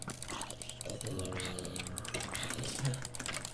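Rapid clicking and key-spamming on a computer keyboard during a Minecraft session, a dense fast rattle of taps that continues steadily close to the microphone, with game sounds mixed in underneath.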